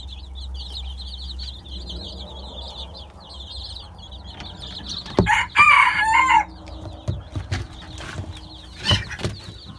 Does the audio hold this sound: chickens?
yes